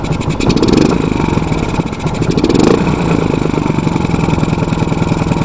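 A motorcycle engine fitted with a Karbu PE 28 carburetor, loud and close, revving in two throttle blips whose revs drop off quickly before settling back to a rough, steady idle.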